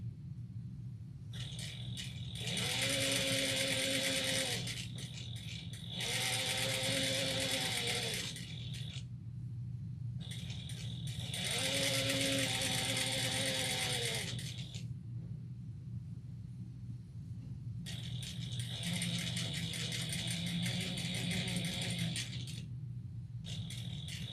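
A sewing machine back stitches fabric for a travel bag in four loud, close mechanical bursts of rapid whirring, separated by short pauses and a low background hum.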